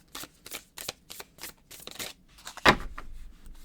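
Deck of tarot cards being shuffled by hand in a string of quick papery riffles and slaps, close and fairly loud, with no talking.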